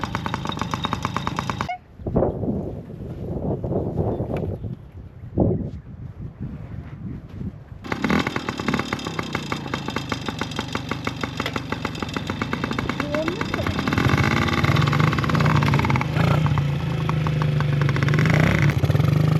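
Yamaha PW50 kids' dirt bikes ride along, their small engines buzzing and rattling in rapid two-stroke bursts, with a quieter lull early on before the revving picks up and stays loud and busy.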